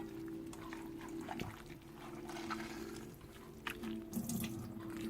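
Water draining from cooked spinach for cream spinach, a quiet running, pouring trickle with a few drips and light clinks over a low steady hum, no talking.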